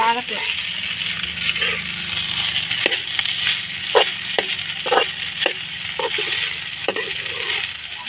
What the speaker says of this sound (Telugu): ఇప్పుడు బాగా కలిపేసుకోవాలి ఫ్రెండ్స్